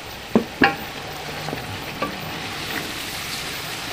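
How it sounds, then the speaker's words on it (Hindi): Spiced masala fries in a karahi for mutton karahi, a steady close sizzle opened by a couple of sharp clinks of a utensil against the pan, then a few lighter knocks, with no talking. "यहाँ पे मसाले को भी 2 से 3 मिनट आपने भूनना है"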